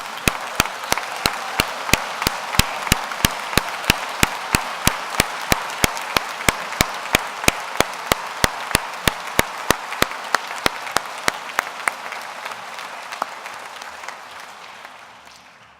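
A commencement audience claps steadily at a Kansas State University architecture, planning and design ceremony, spring 2015, a dense sustained wash of applause with sharp individual claps standing out, lasting about fifteen seconds before tapering slightly.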